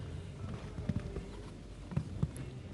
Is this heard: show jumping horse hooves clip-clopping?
yes